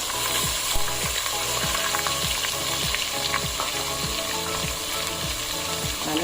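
Onion dropped into hot oil with dried curry leaves for a traditional Maharashtrian Bhogi mixed vegetable dish, sizzling steadily and loudly up close, with repeated scraping stirs of a spoon against the pan.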